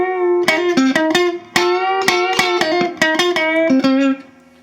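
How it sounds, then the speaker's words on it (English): Electric guitar playing blues, single-string runs mixed with double stop bends; a busy stream of picked notes and bends, bright and slightly driven, played alone and close before ringing out. "single string runs with those double stop bends."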